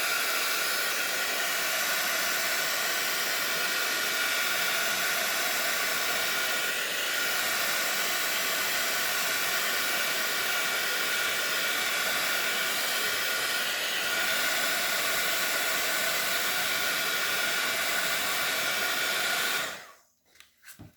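Heat tool blowing continuously to dry stamped ink on a card, a loud steady whooshing roar lasting about twenty seconds before cutting off abruptly near the end.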